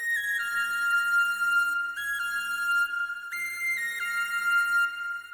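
Clean guitar lead played dry without its custom effects, sustained bright notes stepping between a few pitches in a slow melodic line, clear and steady with no voices.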